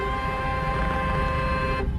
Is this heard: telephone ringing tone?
no